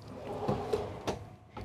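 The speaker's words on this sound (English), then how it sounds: "And then some more full extension drawers here." A full-extension, soft-closing drawer in a 2024 Newmar Mountain Aire 3823 motorhome produces several close wooden clunks and slides as it moves, ending with a softer bump, with no one speaking.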